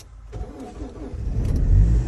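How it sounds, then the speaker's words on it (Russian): A Tank 300 SUV cold-starts in extreme frost near minus fifty degrees in the tundra, the engine cranking and catching, then idling roughly and building to a louder, rising rev. "Сейчас у нас будет холодный запуск."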